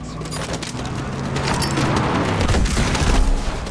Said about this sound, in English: Finally used the right grenade.